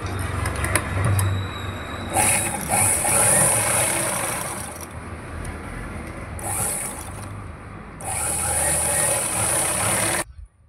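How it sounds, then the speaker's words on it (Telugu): A sewing machine stitching a school uniform collar with canvas underneath, its motor whirring in continuous bursts with rapid mechanical clatter, loud and close, pausing briefly between runs before stopping abruptly. "క్యాన్వాస్ కూడా ఇక్కడ కింద పెట్టి దీని ఎమ్మడి స్టిచ్ చేస్తున్నాను చూడండి."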